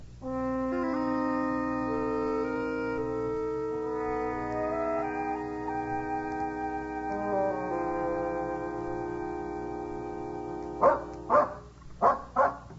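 A dog barks about four times in a quick, loud series at the end, following a long stretch of sustained orchestral film score from a 1950 radio drama.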